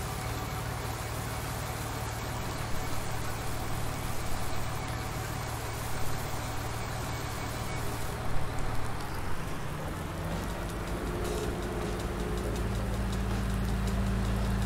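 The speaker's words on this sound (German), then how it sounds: "Ja, Regen" Steady rain hisses across a Landwirtschafts-Simulator 19 farming game scene, with an engine idling low beneath it and the rain texture growing denser in the later half.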